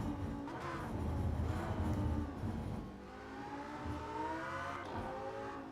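Lamborghini Sesto Elemento lapping the Monza circuit, a loud, steady engine drone from inside the car with rising and falling revs across gear changes, and no talk.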